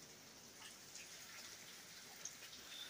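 Soft, steady rain hisses faintly in the background, with scattered light drips and no voices.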